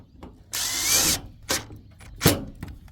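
A power drill drives metal screws through siding while a generator plug box is mounted outdoors: one close, loud whirring burst of about half a second, followed by a few sharp knocks and clicks.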